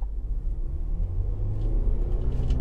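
A 2007 Toyota Camry Hybrid pulls away on the road after a battery repair, giving a close, steady low rumble of the car in motion with faint road noise and no talking.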